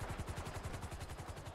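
Rapid automatic gunfire in GTA 5 Online rattles in a steady, fast stream of bursts, dense and continuous, heard at moderate level with no talk over it.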